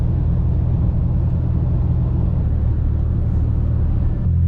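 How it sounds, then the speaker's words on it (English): A car engine idles steadily while warming up before dawn, a loud, constant low rumble heard from inside the vehicle with no voices. "I've had my engine running for the past like half hour while I just wait for my car to warm up"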